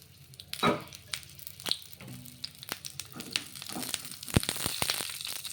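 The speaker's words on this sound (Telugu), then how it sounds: "పచ్చిమిర్చి కొంచెం నూనె వేసుకొని మగ్గించుకుందాం" Green chillies frying in a little oil in a small kadai, a soft sizzle broken by scattered crackles and sharp pops, fairly quiet and close.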